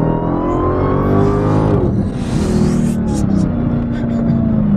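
A 2018 Dodge Demon accelerating from a slower speed, its engine note climbing steadily in pitch with a loud, close, continuous roar and some wind noise over the second half.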